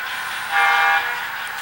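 A model train on an ATSF branch line layout, with detailed Stewart FT locomotives, easing to a stop behind the station, giving a brief close squealing brake-like whine that swells and fades over a soft steady background.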